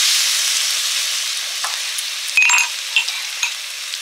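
A pan sizzles and fries steadily as whipped yogurt is added, with a continuous bright hiss and a few soft stirring clicks and spatters near the end, close and fairly loud with no voices.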